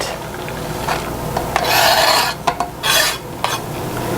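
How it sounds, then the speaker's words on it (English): Sugar, cornstarch, milk and chocolate stirred in a saucepan for a German chocolate pie, giving close scraping, rasping swishes in uneven bursts with no voices. "in a saucepan we're going to add sugar, cornstarch, and stir in the milk, the chocolate"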